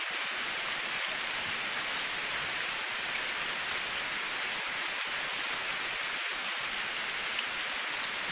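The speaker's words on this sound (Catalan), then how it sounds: "Oh no, plou!" Steady rain falls during a stormy scene at a Christmas show, a dense, even hiss that continues unbroken throughout with no voices over it.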